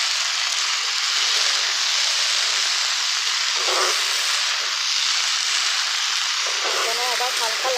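Okra sizzling and frying with spices in a hot pan, a steady bright hiss that stays even throughout, with a voice talking over it briefly.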